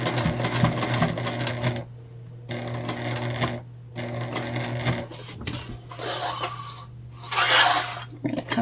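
A sewing machine stitching fabric for a bag, running in several short bursts of rapid mechanical chatter separated by brief pauses, with a steady low hum underneath and no talking.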